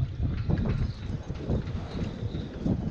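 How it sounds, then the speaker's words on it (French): Strong wind buffets a sailboat, a steady broadband roar with gusty rises and falls throughout, loud and close to the microphone, with no voices. "Il y a beaucoup de vent."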